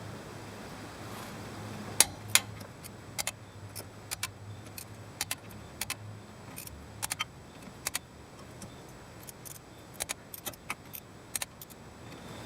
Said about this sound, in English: Now we're going to torque it down, 25 foot-pounds, star pattern.